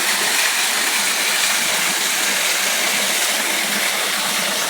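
Water flows in a small natural pool with a steady, close, even rushing hiss that holds without a break and has no voices over it.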